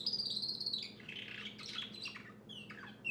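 A pet bird sings indoors with high, bright chirps and warbling phrases running throughout, fairly close, over a low steady room hum.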